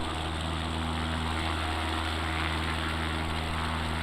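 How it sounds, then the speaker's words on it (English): A propeller airplane's engine drones steadily and close, a constant tonal hum with layered harmonics that holds without fading. "So we'll go back outside here and see if we see that airplane."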